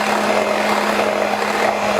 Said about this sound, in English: I'm going to mix this for about 4 minutes